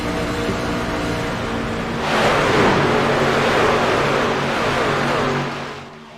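A race car's engine comes off the throttle during a night of C2CRL Speed Week racing. The loud, broad roar swells partway through, holds steady, then drops away at the end.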